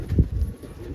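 Low, soft cooing of an almond pigeon, a breeding domestic pigeon variety, with one fuller coo swelling early and quieter murmuring after, close by and heard alone with no talk.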